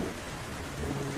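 Heavy rain pours down in a Hindi cartoon story set in a jungle, a brief dense steady roar of rainfall with a low rumble underneath and no voices.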